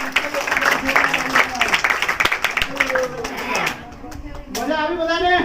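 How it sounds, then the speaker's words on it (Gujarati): An audience claps for Bhavesh at a children's magic show, with brisk, uneven applause under loud talking and raised voices. The clapping drops away partway through and the speech carries on. "ભાઈ ભાવેશ માટે જોરદાર તાળીઓ દે યાર."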